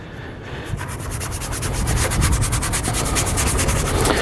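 A boar's hair brush scrubs a car engine bay with a steady, close scratchy rubbing that builds in loudness, with fast back-and-forth strokes.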